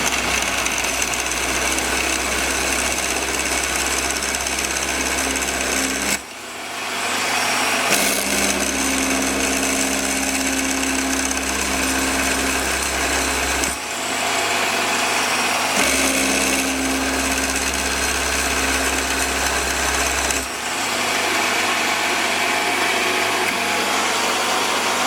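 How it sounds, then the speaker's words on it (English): A milling machine cuts a push-rod depression into a replacement rocker arm for a 1933 Sunbeam Model 8 350cc motorcycle with a 5/16 ball nose cutter, giving a loud steady whine with a low hum that cuts out briefly three times. "to pour the depression for the push rod with a 5/16 ball nose"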